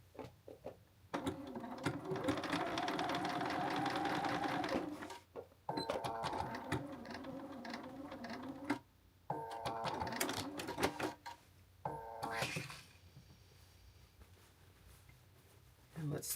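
A sewing machine stitches a triangle on blazer fabric for an oversized plus-size blazer, running in several bursts of steady mechanical whirring separated by pauses, with a person speaking in between.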